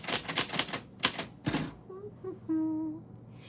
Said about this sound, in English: I typed it for you